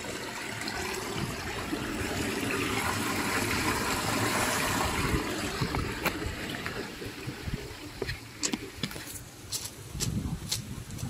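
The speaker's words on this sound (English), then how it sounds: "can hear the fresh water." Steady rushing water from a flowing freshwater stream at Wadi Shab, Oman, fills the clip, fairly loud and close, with a few clicks and handling bumps near the end.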